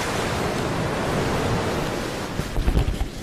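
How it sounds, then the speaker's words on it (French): Steady broadband rush of wind and sea surf, with a few louder waves breaking on soft sand near the end; no voices. "j'entends le bruit du vent et des vagues s'éclater sur le sable doux"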